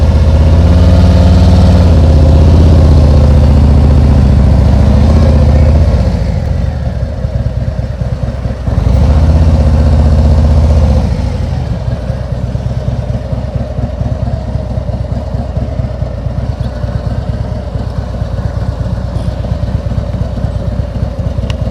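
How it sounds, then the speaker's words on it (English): A motorcycle engine revs loudly, then settles into a lower steady idle-like rumble as it pulls away from a parking spot, continuous throughout with no voices. "as soon as I feel the motorcycle starting to move, pick up my left foot"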